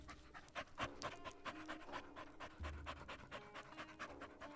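A big dog pants steadily and heavily, quick rhythmic breaths close by, with no one speaking.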